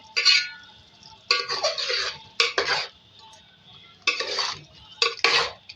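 A spoon scrapes and clanks against a metal pot while chicken palak aloo with chopped coriander is stirred, in several separate bursts of stirring with short pauses between them and no talking.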